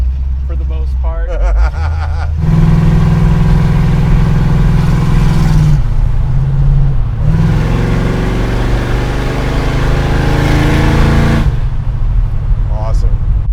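A 1967 Pontiac Tempest's engine with its exhaust cutouts open gives a loud, deep burbling rumble that swells into strong revs and then settles back, close and steady throughout the clip.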